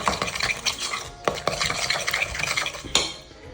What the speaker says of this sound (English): And stir that in well.